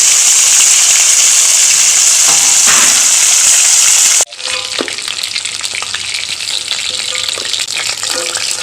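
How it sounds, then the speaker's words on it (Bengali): Stingray (shankar) fish pieces frying in mustard oil in a kadai, a loud steady sizzle for the first half that drops abruptly to a quieter crackling fry with light scraping for the rest. "বাকি মাছগুলো আমি এই একইভাবে ভেজে নেব।"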